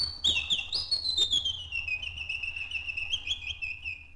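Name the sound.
birds singing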